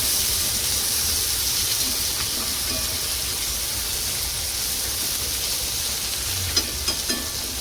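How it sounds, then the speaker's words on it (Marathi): Tomatoes, onion and vegetables stir-frying in oil in a pan, a steady broadband sizzle and hiss throughout with a few faint clinks of stirring near the end, no talking. "नंतर आपण थोडं 1-2 मिनिटासाठी मिक्स फ्राय करणार आहोत तेलामध्ये."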